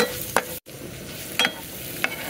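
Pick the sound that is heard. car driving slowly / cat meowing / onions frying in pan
onions frying in pan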